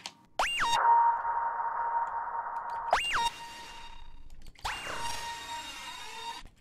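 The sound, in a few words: two synth notes from a Serum preset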